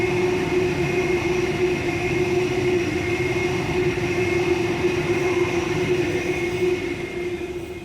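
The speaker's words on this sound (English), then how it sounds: "We should have a Waratah past us on the outer track just over here for a City Circle service." A Sydney Waratah electric train runs past on the outer track near Turrella station, giving a steady, loud rumbling roar with a sustained hum that tapers slightly at the end.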